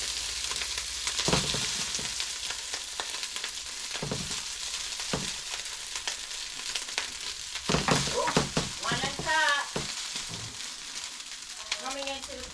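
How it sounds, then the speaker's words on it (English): Long grain rice fries and sizzles in olive oil in a pot, a continuous hissing crackle with occasional stirring scrapes, close and fairly loud. "I'm going to grab some of this long grain rice and start adding it to the pot."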